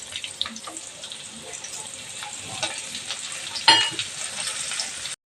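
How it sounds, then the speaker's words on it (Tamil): Sliced onions and garlic sauté in a hot pan, giving a continuous crackling sizzle with occasional stirring scrapes and a sharp clatter near the end. "இப்போ வெங்காயம் போட்டது வந்து நல்லா வதக்கி விட்டுடலாம்."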